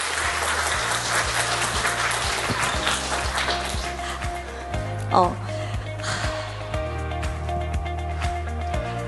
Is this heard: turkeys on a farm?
no